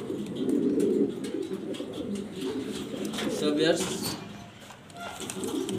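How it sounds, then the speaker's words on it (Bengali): Jharna satin pigeons cooing in a coop, low repeated throaty coos rising and falling, with someone talking over them. "ঝর্ণা শাটিন কবুতর ইনশাল্লাহ আমার এখান থেকে নিতে পারবেন"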